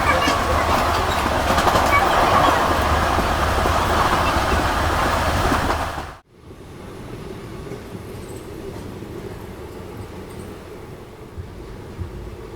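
A sleeper coach train pulling into Pipra railway station in Bihar gives a steady, loud rumble of rolling wheels and carriage noise that cuts off sharply midway, leaving a quieter interior hum for the rest.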